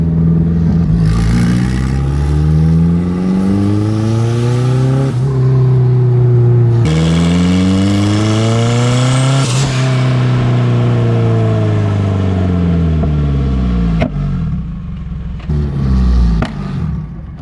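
A turbocharged K24-swapped MR2 revs hard on the street, its engine pitch climbing and falling in several loud, close sweeps with brief pauses between pulls and no talking.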